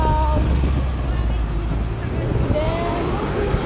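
Wind buffets the microphone on a sunny, windy day near a tram line, a steady low rumble with gusts throughout, and faint crowd babble underneath.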